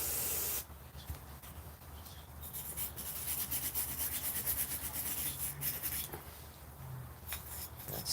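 Old gasket material is scraped off a 1995 Kawasaki Ninja 900 carburetor with a steady, faint, close-up rasping and rubbing that continues throughout.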